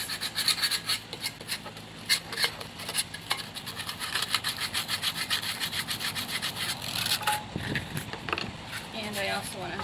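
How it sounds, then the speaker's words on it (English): Sandpaper wrapped around a paintbrush is rubbed over an old tin can, making continuous gritty scraping strokes in an uneven rhythm, close and moderately loud with faint background noise. "So I'm going to take my sandpaper and just wrap it around my paintbrush. And hopefully that will help me sand it down a little bit."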